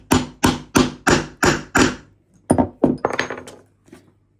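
Repeated sharp hammering knocks as a blind fastener is banged onto a small ring for homemade insulated blackout blinds in a Honda Jazz camper: six evenly spaced hits, a pause, then a quicker cluster of taps, close and loud.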